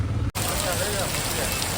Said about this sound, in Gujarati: એકવાર વરસાદ ચાલુ ધોધમાર